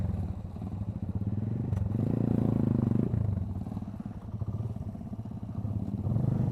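Off-road motorcycles labour up a steep rough dirt track, their engines droning steadily with rattling clatter, a louder surge in the middle, and no talk over the noise.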